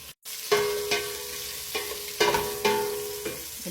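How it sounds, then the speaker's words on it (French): Beef grilling in a pan with onions, loud clattering stirs of a utensil against the pan recurring every half second or so over a soft continuous sizzle. "On va griller un peu la viande."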